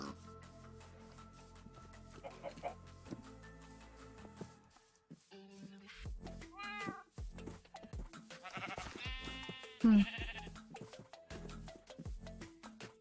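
Sheep bleat in the Minecraft video game, a few short wavering cries spread across the clip over background game music and ambient sound.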